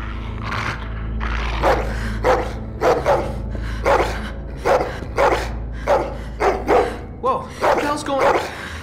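A dog barks repeatedly in sharp, evenly spaced bursts in a scene from The Walking Dead video game, loud and close, with a low background hum between barks.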